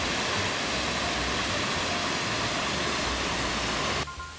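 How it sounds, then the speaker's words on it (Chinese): A powerful waterfall beside a road in Yuli, Hualien, pours as a dense, even roar of rushing water that continues unbroken before cutting off sharply near the end. "左边呢，也有一个水势颇为强劲的瀑布。"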